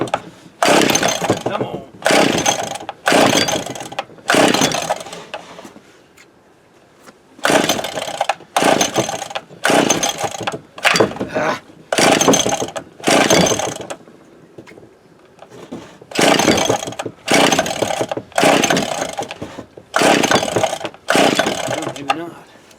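An Echo HC1600 hedge trimmer is pull-started repeatedly: bursts of ripping starter-cord and sputtering two-stroke engine noise come in rapid groups, separated by short quiet pauses, up close.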